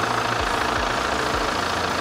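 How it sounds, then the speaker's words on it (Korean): A Hyundai Santa Fe TM 2.0 diesel idles at a steady, even rumble, its low clattering engine pulses repeating regularly and close by, with no voices present. "엔진 소리 일정하고 좋습니다."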